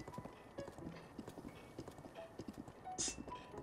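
Hooves of a horse clip-clop steadily in The Legend of Zelda: Breath of the Wild, quick rhythmic thuds at a trot over faint game ambience, with a brief bright chime near the end.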